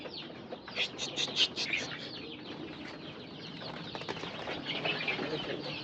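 32-day-old chickens cluck and squawk in short bursts in a busy, small fenced-off coop section, with some wing flapping and steady farmyard noise underneath.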